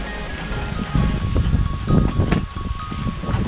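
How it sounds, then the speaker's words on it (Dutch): Strong wind blows outdoors near San Francesco in Italy, buffeting the microphone with loud, gusty low rumbles that rise and fall in uneven surges. "Het is een beetje kut weer aan het worden, maar het waait fucking hard dus."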